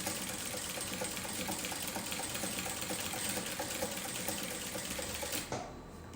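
An industrial sewing machine with a zigzag attachment runs a steady, rapid mechanical stitching rattle, set to stitch length 5, close and continuous before stopping near the end.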